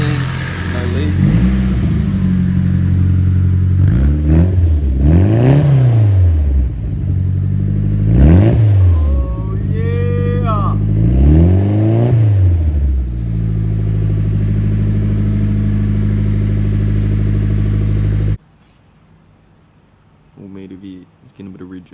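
A Nissan S14 with a Tomei downpipe and 3-inch exhaust through a 3-inch muffler revs repeatedly, deep swelling blips rising and falling close by, with voices talking over it before the engine drops away.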